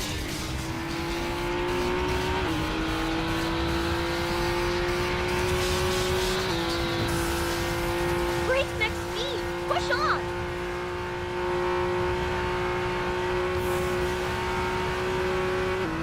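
Go Hojo NSX race car in the Racing Master game at the Nurburgring, a sustained high engine drone holding pitch with slight shifts and a brief squeal near the middle, continuous and close under commentary.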